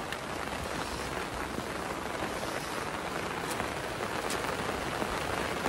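Heavy Konkan monsoon rain pours down steadily, a dense, even hiss of drops on surfaces that stays loud and unbroken throughout, with no voices over it.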